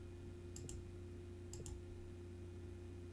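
Several soft mouse clicks come in two quick pairs, saving a document as a PDF on a computer, with a low steady hum underneath and no talking.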